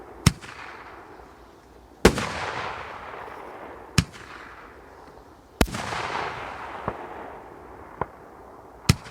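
A TXB203 Koneser triplex fireworks launcher fires slowly outdoors, sending sharp loud bangs every second or two, some followed by long crackling, hissing tails as the effects burst, with no voices.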